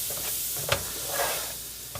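Flour mixture being stirred in a hot pan, a steady sizzling fry with soft scraping strokes and a couple of brief knocks of the utensil, close and without talk.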